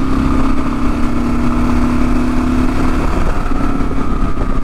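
A Gen 3 Kawasaki KLR motorcycle rides a mountain road in Northern California, its engine a steady, loud drone mixed with wind rush throughout, with no speech.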